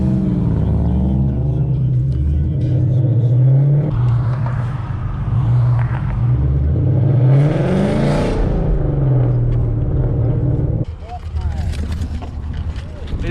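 Tuned Nissan 370Z with a full catless exhaust revving up close, loud rising and falling engine howls over a rumbling idle, several sweeping revs and a raspy exhaust note, with occasional voices nearby.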